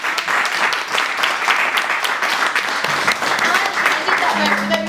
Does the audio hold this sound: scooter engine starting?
no